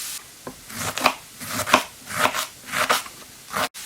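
A knife chops through crisp cabbage on a board, about five or six spaced, crunchy cuts at an unhurried pace.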